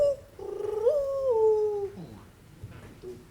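A man whistles an imitation of a spotted dove's call, a short series of tonal gliding notes that rise and fall, clear and close in a quiet room.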